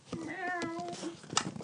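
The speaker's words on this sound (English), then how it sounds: "Sorry, that was my cat." A cat gives a single drawn-out, wavering meow close by, followed by faint shuffling and a short click, with muffled sounds underneath.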